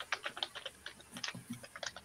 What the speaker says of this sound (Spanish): oigo todo el rato como si alguien estuviera tecleando